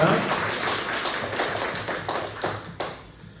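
A church congregation claps at a prayer meeting in thanks for those who served, producing a short burst of scattered, uneven applause that tapers off with a few final distinct claps.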